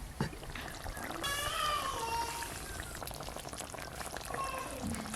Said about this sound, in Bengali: কি সুন্দর গুটগুট করে ফুটছে দেখুন।